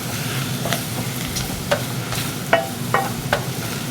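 Beef, onions and mushrooms sizzle steadily in an air fryer basket while a utensil scrapes and turns them, with several distinct clicks and scrapes over the constant frying hiss.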